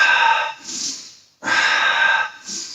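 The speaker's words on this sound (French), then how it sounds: "Maintenant, vous allez inspirer, tendre jambe gauche et bras droit. Expirez, l'autre côté. Inspire, expire." Breathing in and out during a Pilates exercise at home, two long, loud, close breaths, each a strong airy rush followed by a shorter hiss, with a pause between them.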